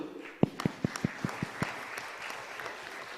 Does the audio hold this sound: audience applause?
yes